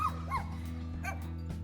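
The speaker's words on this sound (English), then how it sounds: "So Chrissy and Willow are barking at the geese." Two dogs bark at geese outdoors in a spring garden, giving a few sharp yapping barks a short distance away over a steady low hum.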